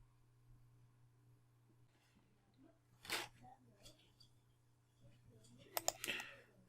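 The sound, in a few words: computer mouse click on software button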